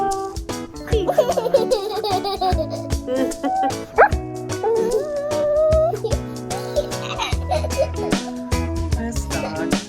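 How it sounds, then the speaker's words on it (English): Small dog barking, yipping and whimpering in high, wavering cries close by, mixed with the rising and falling tones of a person singing or talking along. "This dog."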